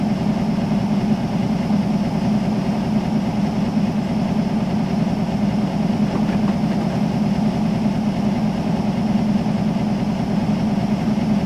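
A steam locomotive accelerates in a train simulator game, giving a steady, loud, continuous rumble of engine and running noise with no talk.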